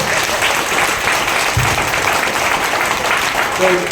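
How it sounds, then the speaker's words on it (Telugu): An audience at a morning meeting in an air-conditioned hall claps loudly and continuously, a dense wash of applause throughout with a brief voice near the end. "మరి గట్టిగా ఒకసారి చప్పట్లు కొడితే బ్రెయిన్ యాక్టివేట్ అవుతుంది కదా"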